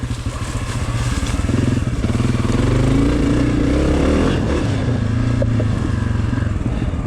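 Honda CRF250F dirt bike engine under load while riding, a loud, close, throaty thrum that swells and eases as the throttle changes, with faint clatter over rough ground.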